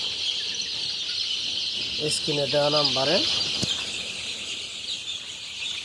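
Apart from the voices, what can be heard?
chickens and chicks at a poultry farm and hatchery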